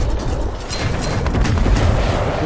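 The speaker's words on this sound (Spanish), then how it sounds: "¡Vienen cohetes!" Incoming rockets exploding in the video game Gears Tactics, a dense, continuous rumble of blasts and booming impacts filling the whole stretch, loud and close with no talk.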